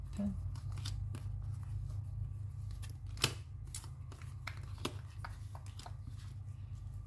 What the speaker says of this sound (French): Je remets mes cartes, évidemment, dans le bon sens.